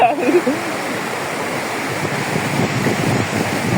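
Floodwater from Cyclone Ditwah flows through a village and into a house, making a continuous loud rushing wash with no break for the whole stretch.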